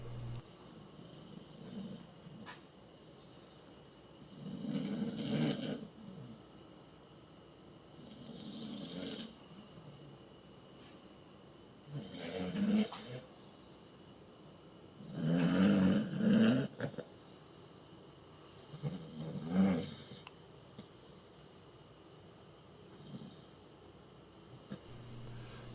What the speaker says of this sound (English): If you listen closely, you can hear him snoring.